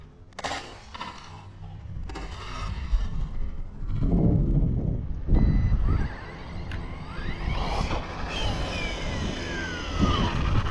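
A scale RC truck drives over rough ground, its electric motor whining and rising in bursts amid rumbling, scraping impacts and some wind buffeting outdoors.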